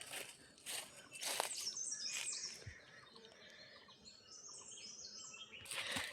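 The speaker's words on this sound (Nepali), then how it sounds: "अब चराचुरुङ्गीको आवाज सुन्नु यहाँ" Birds chirp and twitter near a big tree outdoors, with several faint high calls scattered across soft background ambience, fairly distant and quiet, and no talking.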